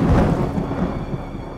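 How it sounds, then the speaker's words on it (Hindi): Heavy rain pouring down with a deep rolling rumble of thunder from a storm, loud and close, the thunder fading slightly as the downpour continues. "कड़कती बारिश, गरजते बादल।"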